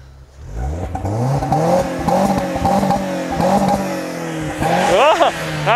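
A Renault Sandero RS 2.0 engine revved repeatedly in short rising bursts, loud and close, with a brief higher whine near the end; a voice speaks over it.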